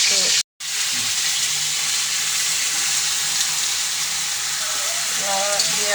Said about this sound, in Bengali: আজকে একটু মাংসটা ভেজে নিব